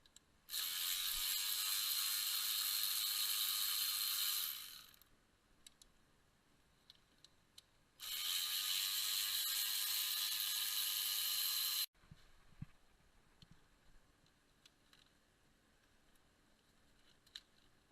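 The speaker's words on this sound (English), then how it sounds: "Take out the 4 inverted Torx bolts. They are a size 10." A ratchet wrench turns out the size 10 inverted Torx bolts holding the fuel rail of a 2002 Mercedes C320 onto the intake manifold, two long bursts of rapid, close clicking separated by quiet handling noise.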